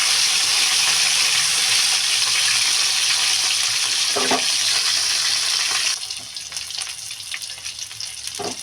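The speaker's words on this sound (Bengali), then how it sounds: "মাথাটা একটু ভালো করে ভাজা হয়। দেখো মাছের মাথাগুলো এবার উল্টে দেবো।" Rohu fish heads fry in hot oil in a pan, giving a loud, steady sizzle that drops to a softer crackle with a few stirring clinks toward the end.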